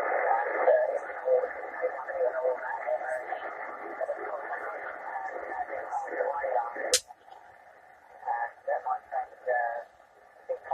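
Radio signal heard through a WiMo QRM Eliminator phase inverter, a steady band of noisy, voice-like audio that cuts out sharply with a click partway through, then returns as quieter, choppier bursts.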